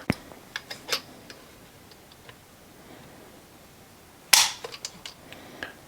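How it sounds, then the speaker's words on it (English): Sharp trigger clicks from a Springfield Prodigy pistol during a trigger pull test, a few soft clicks early on, then one louder crisp snap near the end followed by lighter ticks, close and otherwise quiet. "Let's do another trigger pull test on this, see what has changed."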